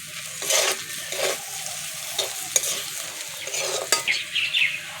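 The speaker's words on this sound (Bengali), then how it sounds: "মশলাগুলোটা আলুর সঙ্গে ভেজে নেব।" Spices and chopped potatoes frying in a pan with repeated stirring, scraping strokes over a steady soft sizzle, close and alone without any talk.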